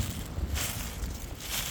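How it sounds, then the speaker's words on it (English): Wind gusts roar steadily outside an off-grid tiny house cabin build site ahead of a storm, a continuous broadband rush with low rumbling buffets and brief swells. "Here comes the wind again."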